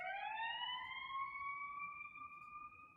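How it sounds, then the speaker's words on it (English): An emergency vehicle siren in Chicago wails in a long rising tone, fairly faint and distant, over a low rumble of street noise. "The crescendo of Chicago sirens."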